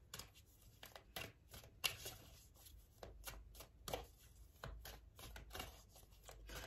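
Tarot cards shuffled by hand, producing soft, papery riffles and taps in short repeated bursts, very quiet and close, with no voices.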